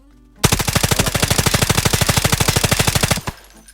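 Rapid automatic gunfire in the mobile game Delta Force, a single loud, close burst of evenly spaced shots lasting about three seconds, followed by a brief mechanical click.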